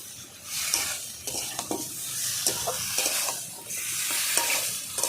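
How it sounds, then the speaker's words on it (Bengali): Turmeric powder, salt and spices are stirred in a frying pan for a Bengali hilsa and drumstick (moringa) curry, with a steady sizzle under repeated scraping strokes of a spatula, close and fairly loud, no voices. "আর হলুদ গুঁড়ো ভালো করে আমি একসঙ্গে মিশিয়ে নিচ্ছি"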